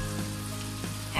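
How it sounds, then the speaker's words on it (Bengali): Spice masala paste being sautéed in a pan for a rui fish curry, giving a constant, fairly loud close sizzle with a steady low hum underneath and a brief scrape near the end. "মশলাটাকে আমি ভালোভাবে কষিয়ে নিচ্ছি এবার।"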